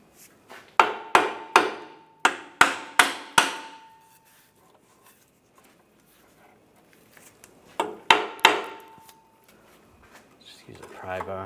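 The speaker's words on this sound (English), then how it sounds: "You can hit it with a hammer." A hammer strikes metal on a Cadillac SRX engine during a knock sensor replacement, landing six sharp ringing blows in a quick run, then a pause and two more hits, close and loud against a quiet background.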